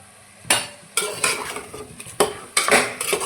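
Tomatoes tossed into chicken in a pan bring bursts of clattering utensil stirring and scraping against metal, with a soft sizzle between the strokes and no voices.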